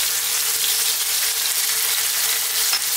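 Garlic ginger paste, a half-and-half mix of the two, sizzles loudly and steadily in a hot pan with onions for a vegetable coconut curry, a dense, even hiss without pauses or speech.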